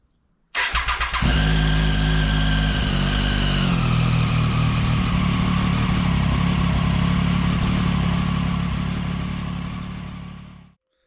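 Triumph Daytona 675 sport bike engine fires up after a moment of quiet, settles into a loud, steady idle with a slight drop in revs a few seconds in, then cuts off at the end.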